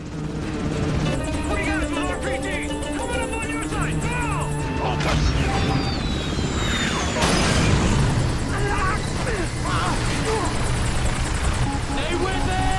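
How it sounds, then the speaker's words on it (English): A military helicopter in a Black Hawk Down battle scene, its rotor chopping steadily beneath urgent shouted dialogue, with sudden crashes and impacts breaking through midway. "the helicopter sequence in Black Hawk Down"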